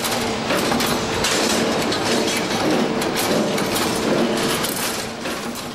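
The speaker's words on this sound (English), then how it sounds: "Here we can view the production of stirrups, which of course employs the twin strand method." A PEDAX Twinmaster 16 II machine bends twin-strand stirrups with a continuous dense clatter and whir, steady and loud throughout, with no voices.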